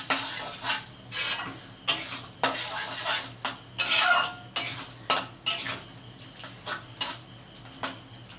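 Metal pot being handled and covered with a lid, a series of close clanks, scrapes and clinks of metal on metal against a soft background sizzle.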